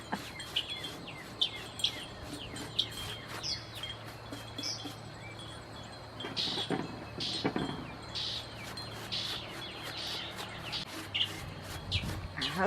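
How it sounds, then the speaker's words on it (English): Small birds chirp outdoors in a Georgia garden, scattered faint tweets coming and going over quiet background hum. "I wish I understood bird language."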